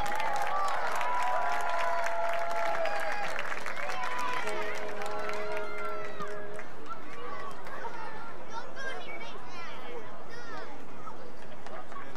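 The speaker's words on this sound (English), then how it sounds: "Let's cheer them on." A crowd at a championship match of a Cincinnati Dutch Lions vs River City Rovers event applauds and cheers steadily, a dense continuous wash of clapping and chatter with shouts over it.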